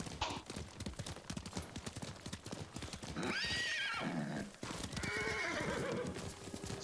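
Horse in the video game Ghost of Tsushima, hooves clip-clopping in a rapid rhythm before a loud, close neigh and whinny rises over the hoofbeats, followed by a second shorter whinny.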